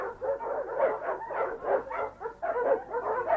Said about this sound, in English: Oh no! More dogs!